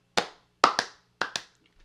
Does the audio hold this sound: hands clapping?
yes